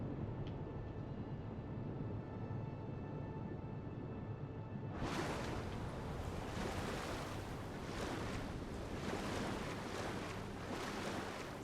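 Ocean waves in a video game surge and roll as a broad, hissing wash of surf that swells in after a quieter windy stretch, steady and fairly faint.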